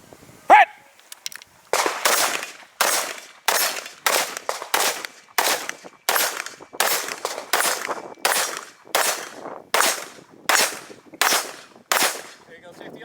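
Repeated gunshots fired at a shooting range during a drill, loud and close, in a steady string of about a dozen sharp cracks with brief gaps, plus a short beep at the start.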